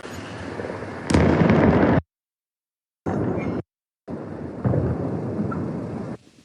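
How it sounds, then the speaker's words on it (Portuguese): Powerful explosions rock a city in the Krasnodar region, heard as heavy booming, rumbling bursts in separate loud segments split by abrupt silent gaps, with no speech. "Ah, explosões."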